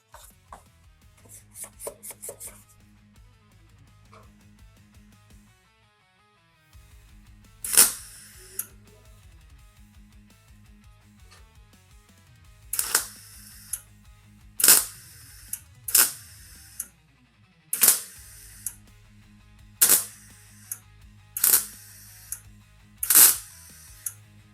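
A welder spot-welds bodywork on the hood of a Volkswagen Beetle under restoration, sounding as a series of about eight sharp, loud crackling bursts spaced a second or two apart over a low steady hum, with no talk.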